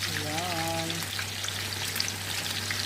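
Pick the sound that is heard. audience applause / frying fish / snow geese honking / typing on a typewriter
frying fish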